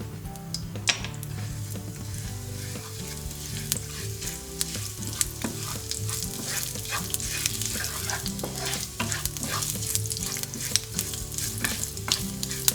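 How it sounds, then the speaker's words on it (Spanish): Cumin seeds sizzle and pop in hot oil in a frying pan, a dense, continuous crackle with sharp, irregular pops close by and no talking. "Ponemos otro poco de aceite en una sartén y cuando esté caliente incorporamos las semillas de comino"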